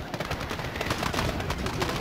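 Rapid bursts of Modern Warfare campaign gunfire crackle almost nonstop, loud and dense, with overlapping shots and faint voices mixed in.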